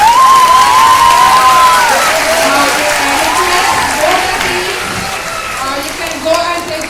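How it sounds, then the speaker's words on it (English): Students and audience at a Class X school debate give a round of applause with scattered cheers; the clapping starts loud and slowly fades, with voices calling out over it. "So take a round of applause."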